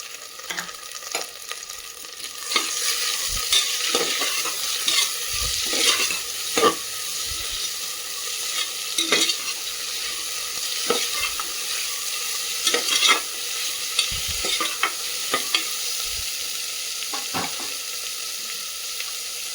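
Two finely chopped tomatoes sizzle in a hot pan while a spoon stirs them, giving steady frying hiss broken by frequent scraping clacks against the pan, close and alone with no voices.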